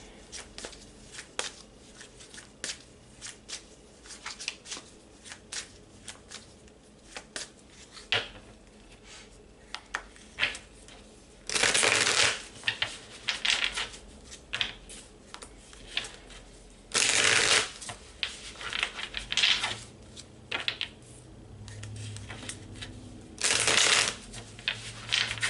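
Tarot cards are shuffled for a reading in several sharp, close riffling bursts separated by quieter handling and soft card taps.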